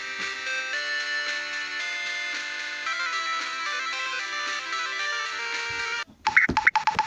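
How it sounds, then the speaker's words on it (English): Repeated electronic phone notification chimes, a steady tonal pattern that runs for about six seconds, then gives way to louder, choppy bursts of sound at the end. "That noise is my notifications."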